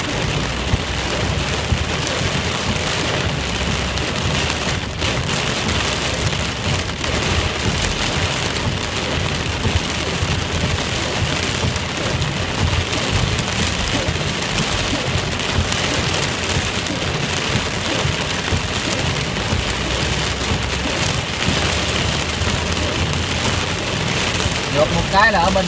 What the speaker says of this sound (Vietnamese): trời mưa lớn như vậy nè